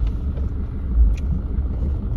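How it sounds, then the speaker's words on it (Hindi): Dense road traffic in Jaisalmer, a steady low engine rumble of passing vehicles filling the whole moment with no voices on top. "ट्रैफिक बहुत ही ज्यादा है"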